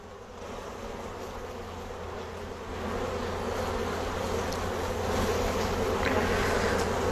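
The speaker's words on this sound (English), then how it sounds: "you can also shake these bees into a bucket and pour it into this contraption" Honeybees buzz in a dense, continuous swarm drone, fairly close, growing slightly louder partway through as they are shaken into a container.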